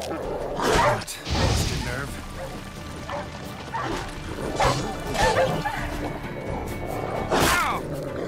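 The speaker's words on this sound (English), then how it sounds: "Now we got dogs." Dogs in The Witcher 3: Wild Hunt Next Gen barking in repeated sharp bursts, fairly close and loud, with a person talking intermittently over the barks and some crashing game sounds.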